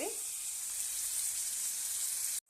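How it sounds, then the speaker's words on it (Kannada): Onions sizzle in a hot pan for a continuous, close, even hiss that cuts off abruptly at the end. "ಫ್ರೈ ಆಗ್ತಿದೆ ಈರುಳ್ಳಿ ಇನ್ನೊಂದು ಸ್ವಲ್ಪ ಬ್ರೌನ್ ಬರಬೇಕ್ರಿ"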